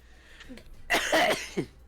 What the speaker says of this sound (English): Oh no, you're coughing too.